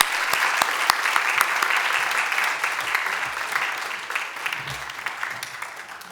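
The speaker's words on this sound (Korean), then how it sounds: "감사의 박수 보냈으면 좋겠습니다" Congregation clapping in thanks during a Sunday church service, a full room of hands applauding steadily with some sharp claps up front, gradually thinning and fading over six seconds with a faint murmur of voices.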